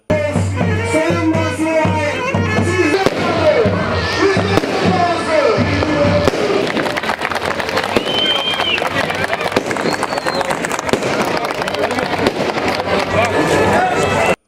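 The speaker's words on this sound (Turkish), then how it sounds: "köy meydanında da havai fişekler eşliğinde karşılandı" Fireworks crackle and pop repeatedly during a welcome in a village square, with a crowd murmuring and a narrator talking over the loud bangs.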